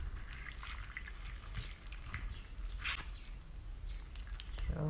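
Soaked soybeans being washed and rubbed in water to loosen their skins, giving soft, intermittent splashing and trickling sounds at close range, fairly quiet throughout.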